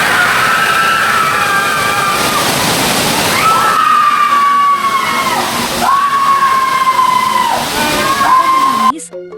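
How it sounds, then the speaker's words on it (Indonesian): Dewi Gangga, the first waterfall at Taman Griya Beji, gives off a steady, loud rushing roar. Voices shout and wail in long, drawn-out cries over the water, and the sound cuts off abruptly at the end. "Air terjun pertama bernama air terjun Dewi Gangga"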